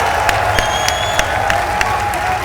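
Crowd at the EVO 2015 Ultra Street Fighter IV grand finals cheering and applauding steadily, a dense roar of claps and voices with sharp whoops and whistles popping out every half second or so.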